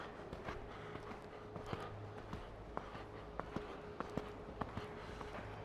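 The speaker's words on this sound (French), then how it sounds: "on va prendre le galop, le laisser s'installer" Hoofbeats thud in a steady repeating rhythm under constant wind-like rumble and outdoor noise, a horse galloping nearby between show-jumping obstacles.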